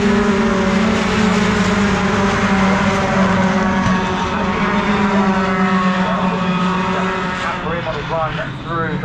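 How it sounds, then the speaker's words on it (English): Pickup trucks race at the Brands Hatch circuit, their engines holding a loud, steady roar of close, overlapping drones throughout, with a commentator talking over the noise. "Matt Simpson just about gets his nose in front of Mark Willis to the top 5 position, and he gets the truck ahead there"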